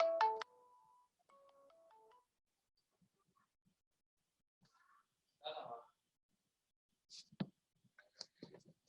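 A phone ringtone chimes at the start as a short run of bright, synthetic melodic tones, then stops. Quiet gaps and a few faint clicks and rustles follow, with brief voices at a low level later on.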